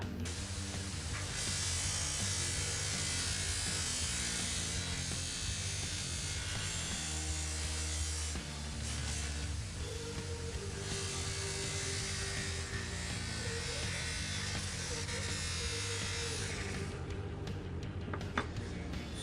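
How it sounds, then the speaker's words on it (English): A buffing wheel polishes a Bonney 199 utility knife with Flitz polish, giving a steady, close motor whine with a continuous broadband hiss that runs almost unbroken, dipping briefly near the end. "I'm using my buffing wheel with the Flitz polish."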